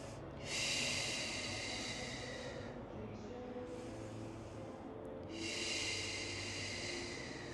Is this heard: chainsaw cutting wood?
no